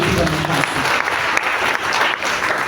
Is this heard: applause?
yes